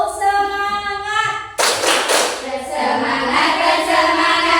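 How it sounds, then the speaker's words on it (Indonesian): A class doing a rhythmic spirit clap, a chanted line followed by a burst of group clapping in quick patterned beats, with voices chanting over the claps. "Tepuk semangat."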